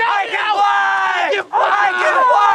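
Teenagers cheer, whoop and yell together in loud sustained bursts after discovering they can fly, their voices overlapping with a brief break midway.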